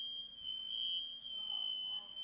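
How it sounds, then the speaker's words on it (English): A fire alarm sounds as one steady, piercing high tone that runs unbroken the whole time, over a low murmur of room noise. "Fire alarm's going off."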